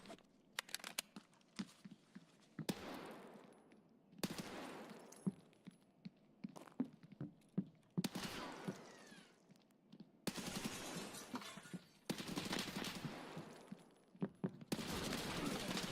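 Scattered gunfire and impact crackles from an Apex Legends firefight, several bursts and single shots spread across a long stretch, moderately quiet with short gaps in between.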